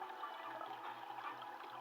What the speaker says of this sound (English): There's our water coming out.